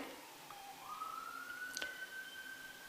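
A distant siren wails faintly, its tone rising and holding, with a brief sharp click partway through.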